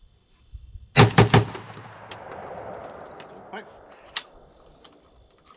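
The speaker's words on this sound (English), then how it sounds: "light loads through the KUSA" A KUSA KS-12 AK-style shotgun fires low brass loads outdoors, hip-fired in a quick close burst of three loud blasts followed by a long fading echo and a faint later click.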